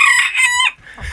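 A hen in a chicken compost barn during a -10F winter lets out one loud, drawn-out squawking call lasting under a second, close by, followed by faint rustling.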